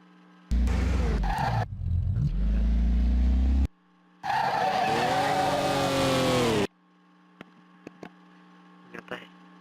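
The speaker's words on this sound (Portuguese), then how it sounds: "O carro já tá arrancando bem." A Volkswagen Gol GTI being restored revs and accelerates in two loud bursts, its engine note climbing and falling, separated by a short pause and followed by quiet with a few faint clicks.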